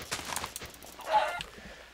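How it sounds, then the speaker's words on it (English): A chicken in Minecraft clucks a few short, close, clear times in quick succession, with no talk over it. "there's a chicken"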